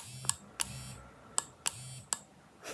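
A Reduit LED Hydra Boost beauty device gives a short series of sharp beeps and clicks as its power button is pressed, with a soft low hum between them, close and fairly quiet.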